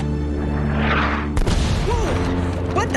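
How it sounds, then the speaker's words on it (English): A heavy anti-aircraft explosion bursts midway through a loud Uncharted: Drake's Fortune game scene, a sudden broadband boom cutting through droning engine noise and followed by rumbling debris and voices talking. "What the hell was that? An anti-aircraft fire?"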